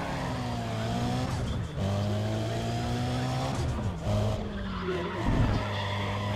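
A car slides with squealing, skidding tires in Need for Speed: ProStreet at Mondello Park, the engine whining and shifting pitch through a long drift with several loud tire screeches.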